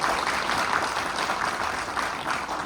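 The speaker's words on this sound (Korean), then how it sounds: "박수 한번 부탁드립니다." An audience at a residents' briefing on apartment redevelopment claps continuously, a dense, even patter of many hands with no voices over it.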